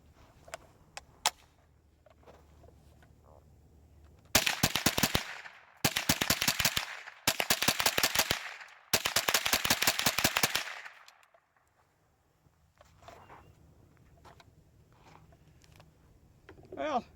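A GSG AK-47 in .22lr fires through a magazine in four rapid, sharp bursts of cracking shots, loud and close, separated by brief pauses, with quiet outdoor ambience before and after.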